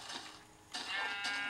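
Sheep bleat in the Minecraft video game, two short quavering calls a moment apart, clear and close against a quiet background.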